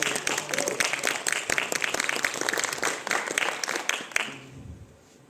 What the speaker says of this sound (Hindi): एक बार मैम के लिए जोरदार तालियां बजा दीजिए